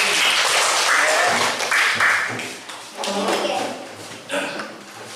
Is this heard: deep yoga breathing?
no